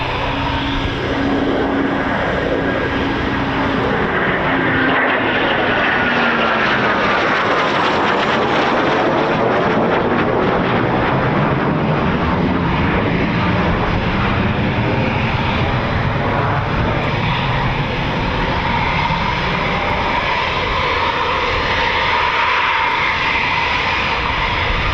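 Eurofighter Typhoon FGR4 jets at RAF Coningsby roaring steadily and loudly for the whole stretch, with a rising and falling engine whine as they pass at close range.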